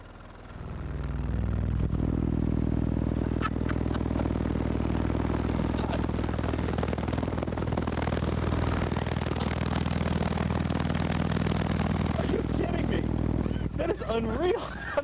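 A Sundown Audio car sound system cranked to full volume, its deep bass and music pounding loudly and steadily for most of the clip, with a few voices breaking through near the end.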